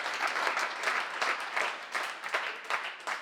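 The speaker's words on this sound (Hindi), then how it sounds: "ताली बजाने से तो प्रसन्न होने वाला नहीं।" An audience at a Jain religious discourse claps in uneven bursts, the dense patter swelling and dipping several times over about three seconds at moderate, somewhat distant volume, with no voices above it.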